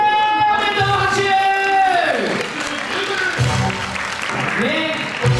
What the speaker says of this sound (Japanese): おめでとう、拍手。